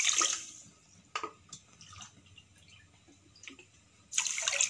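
Two cups of water splash into a pan of sugar in a short pour, a pause with faint drips and clinks, then another brief pour.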